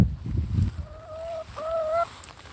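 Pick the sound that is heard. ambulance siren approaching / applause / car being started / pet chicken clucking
pet chicken clucking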